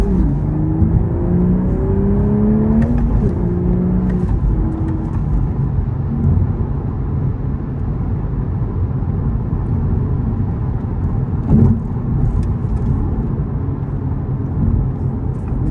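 A 2026 Toyota GR Supra Premium with a six-speed manual sends a steady engine drone and road rumble into the cabin, with a quick rev blip and pitch sweeps early on as the engine rev-matches a downshift.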